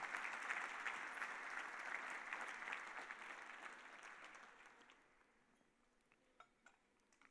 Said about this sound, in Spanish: ¿Quieren aplaudir al Señor? Apláudalo de veras.